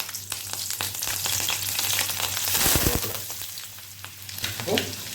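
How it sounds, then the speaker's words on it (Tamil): Mustard seeds and a green chili fry in hot oil, a loud steady sizzle with crackling pops and stirring scrapes, close up and without talk. "எண்ணெய் காஞ்சிருச்சு, அந்த கடுகு போட்டுக்கிறேன், அப்புறம் ஒரு பச்சை மிளகாய்"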